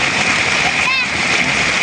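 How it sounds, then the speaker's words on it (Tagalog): Strong flow of mountain stream water rushing past up close, a loud continuous splashing roar, with a brief voice rising over it. "lakas po ng agos po ng tubig galing po yan sa ano bundok"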